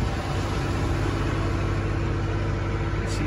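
A 2016 Freightliner Sprinter refrigerated van engine running at high idle to drive the refrigeration unit, a steady loud mechanical hum with constant pitch, close and unbroken.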